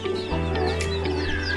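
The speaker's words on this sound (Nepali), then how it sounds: "कुखुरा नि यहाँ रहेछ" Chickens at a rural home give short clucks over a steady low background hum, fairly close, with no voices.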